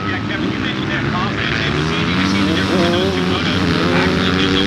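250F motocross bikes racing on a Pro National track at Fox Raceway, their engines buzzing and wavering continuously as they rev, fairly loud and steady throughout.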